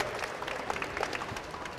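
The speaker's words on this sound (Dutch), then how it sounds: "Dus mag ik een applaus voor deze groep" Audience applause at a COVID-19 vaccination news briefing: soft, distant clapping from a group, steady and faint over a brief stretch.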